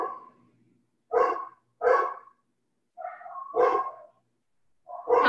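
Two dogs bark in short, loud bursts, with four or five sharp barks spaced a second or so apart and near to the listener, alone with no talk over them.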